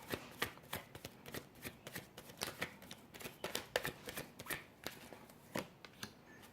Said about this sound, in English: So let's pull a couple more cards.